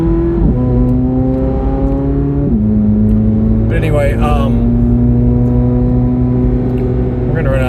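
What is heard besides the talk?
motor vehicle engine revving while driving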